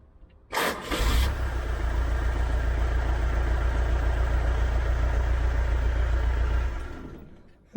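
A 1976 two-door Range Rover with dead electrics cranks briefly and fires up, then runs at a steady, moderately loud idle for several seconds before cutting off, with no talking.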